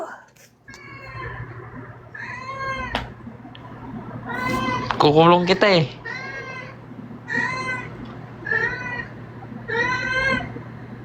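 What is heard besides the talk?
cat meowing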